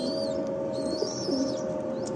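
Pigeons of the Gola type coo in a loft, with a steady low drone and thin high chirps running through the short clip.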